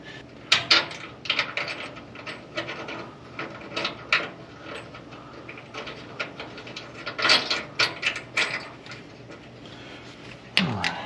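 A ratchet runs a fastener in snug during a repair, giving bursts of quick clicking and metallic handling noises that come and go over several seconds, close and moderately loud, with no talking.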